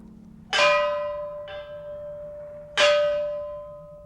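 A church bell rings out in two strong strikes about two seconds apart, each clang followed by a long, sustained metallic hum that decays slowly, with a softer tap in between.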